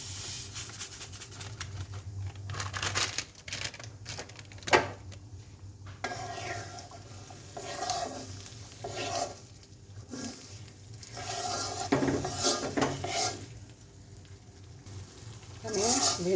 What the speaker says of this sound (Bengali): সুন্দর করে ভেজে নিতে হবে, একটু বাদামি কালার